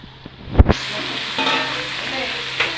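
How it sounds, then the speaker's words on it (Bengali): Marinated mutton dropped into spiced masala in a pan for a Bengali curry, giving a steady broad sizzle after a couple of sharp knocks, close and moderately loud, with no talk. "ভালো করে মশলাটা কষিয়ে নিয়েছি সব কিছু দিয়ে আগে থেকে ম্যারিনেট করা মাংসটা"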